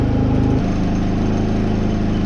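Predator 3500W inverter generator running with a loud, close, steady engine drone that shifts to a lower, smoother pitch about half a second in, then holds evenly, with no voices.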